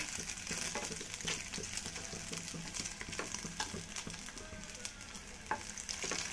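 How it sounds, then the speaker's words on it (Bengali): Paneer frying in oil in a pan until browned, a soft close sizzle with frequent small pops and spatters, fairly quiet and steady, without talk. "পনিরটাকে একটু লাল লাল করে ভেজে নেব।"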